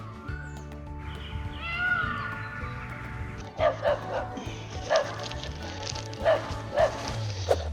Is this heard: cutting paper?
no